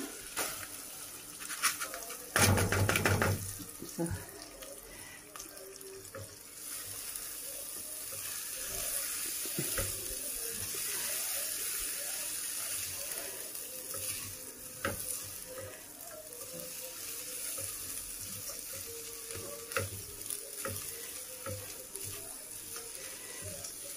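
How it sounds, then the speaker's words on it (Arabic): Basmati rice is washed in water in a home kitchen, with faint continuous sloshing and running water and occasional clinks of the pot throughout. "وانا غسلت الرز كده"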